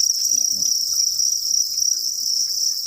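Crickets in a cricket-farming pen chirp in a constant, shrill, unbroken trill, close and loud, with faint low rustling beneath.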